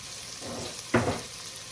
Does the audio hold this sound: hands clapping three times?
no